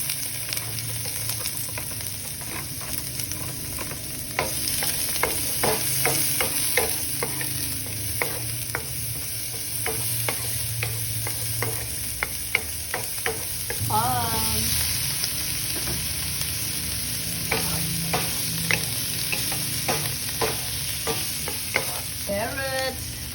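Garlic and onions stir-fried in a hot pan for Spam fried rice, a steady loud sizzle under repeated scraping strokes of a spatula, with a burst of oil crackle midway as the onions go in.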